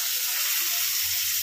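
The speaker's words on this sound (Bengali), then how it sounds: "টমেটোটাকে দিয়ে এবার ভালো করে একটুখানি ভেজে নেব" Tomatoes with onion, ginger and garlic frying in a pan, a brief steady hissing sizzle heard close up, with a faint low knock near the end and no voices.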